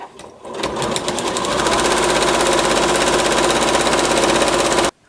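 A sewing machine stitches binding around the edge of a quilt, a fast, steady mechanical whir that starts up, runs continuously and close for about four seconds, then stops abruptly.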